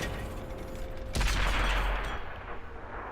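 A single heavy tank cannon shot in a video game: one sudden loud blast with a deep rumbling tail that fades over the following couple of seconds, with no talking.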